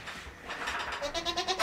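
A baby goat bleats on a farm, a run of short wavering cries close by, growing louder toward the end.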